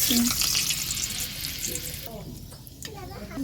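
Potatoes frying in oil in a home kitchen, a steady close sizzle running throughout, with a brief tonal clink near the start and some light stirring sounds later.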